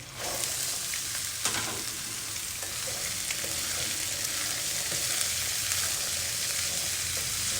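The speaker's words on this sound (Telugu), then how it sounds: "బాగా వేగినండి కరివేపాకు అంతా క్రిస్పీగా అయిపోయింది" Curry leaves and chickpeas frying in a pan, with a steady, dense sizzle and crackle holding at constant loudness, with light stirring strokes underneath.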